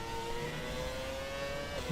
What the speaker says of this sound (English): This car did have launch control and traction control, so we just revved up the engine full throttle and away we go into turn 1 and 2